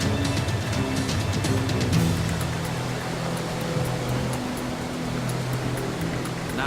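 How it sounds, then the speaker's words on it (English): Strong current of a fast-flowing river in a gorge, a steady broadband rush of water that stays loud and constant throughout, with no voices. "The river is fast flowing, the current very strong."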